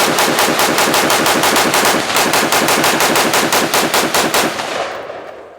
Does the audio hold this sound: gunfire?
yes